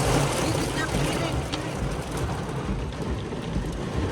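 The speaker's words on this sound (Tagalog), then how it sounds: "Tingnan nyo yung ulan, sobrang lakas." Heavy rain mixed with hail pours down in a dense, loud, continuous roar on a road, with a person talking faintly underneath.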